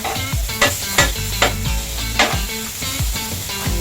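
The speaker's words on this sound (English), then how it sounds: "And so I turned them over. I'm going to season the other side." Porter Road fajita meat, just turned over, sizzles in a hot pan with a steady close crackle and spitting, joined by a few sharp scraping clatters as it is moved around.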